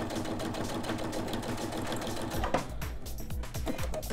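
A sewing machine runs steadily, stitching along an oven mitt seam with a fast, even mechanical chatter, briefly pausing and restarting near the end, close and alone.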